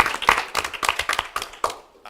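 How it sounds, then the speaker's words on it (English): Brief burst of clapping from a small group at a city council budget presentation, several hands striking irregularly for about two seconds, fairly close and tapering off at the end. "I have been doing this for 18 years and I've never had an applause"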